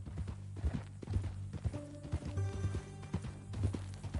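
Horse hooves clip-clop at a walk in the western game Red Dead Redemption 2 on a ranch, an irregular nearby patter of steps with faint tonal music under it and no talk.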